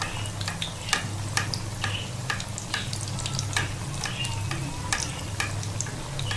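Chicken and vegetable shami kababs fry in a pan of oil, a continuous close sizzle with sharp crackling pops scattered throughout and no talking.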